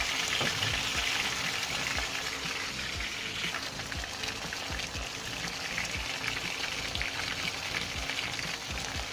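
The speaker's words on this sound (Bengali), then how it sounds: "তো এভাবে আস্তে আস্তে ভাজা হোক" Chicken pieces frying slowly in oil in a pan over low heat for a home-style roast, a soft, continuous crackling sizzle with faint popping, no voices.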